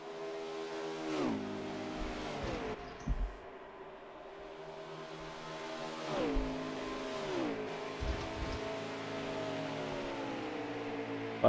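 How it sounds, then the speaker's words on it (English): Race cars in an Xfinity Series Boyd Gaming 300 race at Las Vegas in a racing video game whine past with rising and falling engine tones, several cars revving and shifting in turn, moderately loud with occasional thumps. "Heathen gets by Haas on the outside and takes second place"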